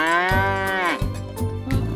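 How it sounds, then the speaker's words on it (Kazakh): A cow moos loudly and close by in a few long, drawn-out calls with short breaks between them, with no talking. "Сегіз деген сиыр"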